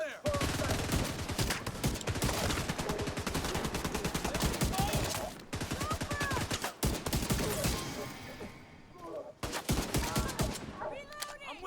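Vindicator rifle fire in The Division 2 during a close-quarters fight, with dense rapid volleys of shots running almost continuously, briefly broken twice, loud and close.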